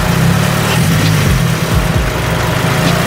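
Nissan S13 engine with a newly installed torque damper, running steadily with a loud, close, rough low rumble and slight unevenness in its idle.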